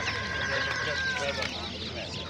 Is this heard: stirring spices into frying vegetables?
no